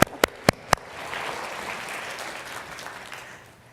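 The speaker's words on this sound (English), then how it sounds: "Big applause." Applause from a corporate keynote audience, opened by four sharp, loud single claps close by, then a broad round of clapping from the crowd that swells and gradually fades.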